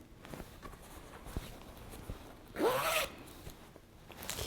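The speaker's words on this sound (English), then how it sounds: "This one has cute pink zipper." A single zip pulled along a pink zipper on a sewn quilted bag, a quick rasping burst in the middle, surrounded by soft handling taps and rustles at close range.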